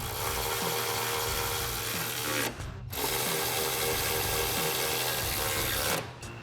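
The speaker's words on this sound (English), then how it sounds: "grab our 13mm socket on our ratchet and tighten these down" A ratchet with a 13mm socket tightens bracket bolts for truck side step bars on a 2019-2024 Silverado or Sierra 1500, heard as close, rapid, continuous clicking, with a brief pause partway through and a stop near the end.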